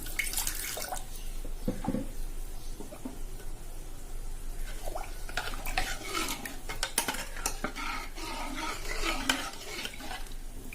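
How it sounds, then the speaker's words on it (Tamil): Water poured into a pot of bitter gourd sambar with tamarind water in a home kitchen, a steady liquid splash with scraping and clinking of utensils against the pot, close and moderately loud, with no talking. "கொஞ்சம் தண்ணி சேர்த்துக்கிறேன்."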